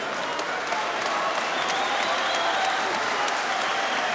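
Amateur boxing crowd in Hull applauding steadily throughout, a dense, even wash of clapping at moderate distance with little variation.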